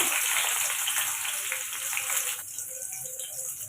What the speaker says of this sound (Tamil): சேர்த்துட்டு கட் பண்ண வெங்காயத்தையும் சேர்த்துக்கோங்க